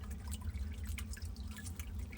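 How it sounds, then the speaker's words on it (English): Spring water flows from a nozzle set in barren rock inside a spring house, a close, steady trickling splash with drip-like patter and a low rumble beneath, heard alone. "The water comes directly out of the barren rock."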